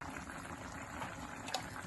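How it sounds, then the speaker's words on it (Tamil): A pot of chicken and brinjal curry bubbles on the heat with a soft, steady simmer. The faint boiling runs continuously and carries no voices. "கொதிக்கட்டும்"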